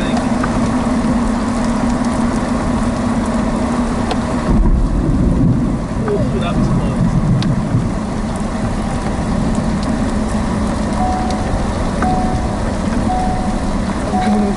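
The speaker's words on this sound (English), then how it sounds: "I just got hit by some hail" Hail and rain pound down during a thunderstorm near a large wedge tornado in Morton, Texas, a steady heavy roar of rain and rumble filling the whole span while a person talks briefly over it.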